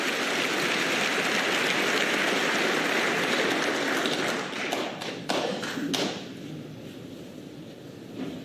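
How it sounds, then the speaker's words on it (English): Sharp snooker ball clicks as the long red is potted during a 2024 Ding versus O'Sullivan match, a few brief knocks set against a steady hiss of broadband arena noise. "And that's a blow for DING vs Sullivan, knocking in the long red"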